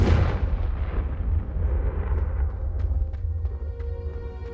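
A blasting curse explodes in the wizarding game Hogwarts Legacy, opening with a heavy, booming blast and fading into a long, rumbling decay with faint crackling debris.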